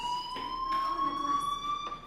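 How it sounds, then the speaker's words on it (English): A school fire alarm in the video game Life is Strange rings steadily and loudly, a sustained electronic tone with faint background noise and no talking. "do you hear that fire alarm?"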